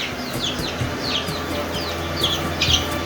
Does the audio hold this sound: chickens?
yes